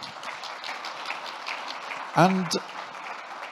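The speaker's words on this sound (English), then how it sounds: "Big round of applause, please." Audience applause after a conference talk on multi-cloud banking, a moderate steady clapping from a seated crowd, briefly interrupted by a single spoken word midway before the clapping carries on.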